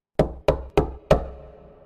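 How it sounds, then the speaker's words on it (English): Four firm knocks on a wooden door, evenly spaced and close, each with a short resonant ring before the next, the last slightly louder and followed by a brief fading tail. "And then I took a big breath and I knocked on the door."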